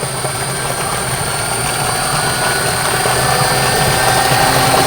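A 72V BLDC self-priming, high-discharge water pump runs up toward full output, a loud continuous motor whine and whirring drone with steady tonal hum that holds without pause and swells slightly as it goes.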